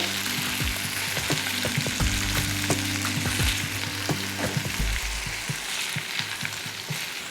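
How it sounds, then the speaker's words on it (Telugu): Boiled potato pieces fry with capsicum in a pan, a steady close sizzle with scraping stir strokes through most of the clip before the frying quiets toward the end. "ఈ ఆలు ముక్కల్ని ఒక్క నిమిషం ఉడికించుకుందాము"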